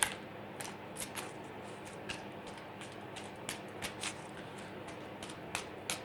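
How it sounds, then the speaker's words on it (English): Tarot cards are shuffled quietly at close range, a sparse series of soft, crisp riffling snaps and flicks scattered over a faint, hushed background. "Shuffle one more time."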